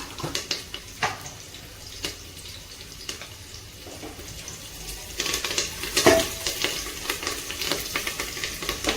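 Cumin seeds sizzle in hot oil in a pan for a spinach bhaji, with a steady background fizz broken by scraping stirs and spoon clinks, one louder clatter near the end.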